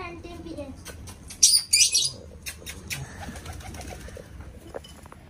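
A brief burst of parrots and pigeons flapping their wings while feeding, two quick flurries, amid soft background chatter and outdoor noise.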